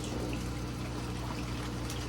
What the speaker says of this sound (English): let the water run through the net, and the net should catch that